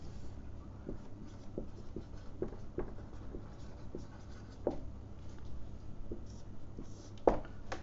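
A pen draws shapes on paper for a geometry lesson, giving soft, close scratching strokes in short irregular bursts, with quiet background and no talking.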